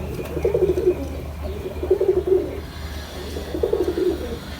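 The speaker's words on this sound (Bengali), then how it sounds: "এরা হলো কবুতর" Pigeons cooing in a rooftop garden, three soft rolling coo phrases spaced about a second apart, fairly close over a low steady background hum.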